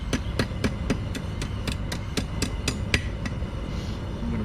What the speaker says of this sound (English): I'm going to use the horn of my anvil and start on my curlicue